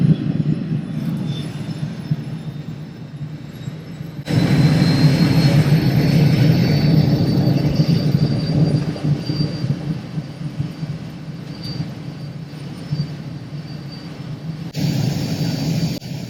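Loganair Twin Otter turboprop engines spool up just outside the cabin window, rising into a loud steady roar with a sharp surge partway through, heard from inside the aircraft with no talking.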